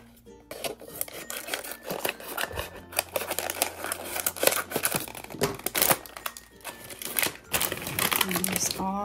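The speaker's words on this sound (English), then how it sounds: "let's open this up. So it's just in a little paper bag." A small paper bag holding a Hello Kitty Real Littles backpack's items is opened, giving close crinkling, rustling and tearing bursts that come and go irregularly, with a person talking over part of it.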